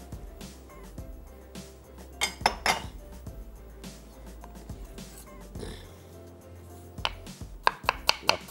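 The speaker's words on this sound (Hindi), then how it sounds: "इसको हमने बारीक काट लेना है।" A knife chopping onion finely on a board in a home kitchen, with irregular taps and knocks that quicken into a brisk burst of sharp strikes near the end, a few metallic clinks, and a low hum underneath.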